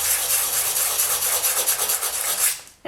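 Sandpaper scrapes across a shiny polymer clay leaf bowl in a continuous, close, rough rasping stroke, loud and unbroken for a few seconds before stopping abruptly.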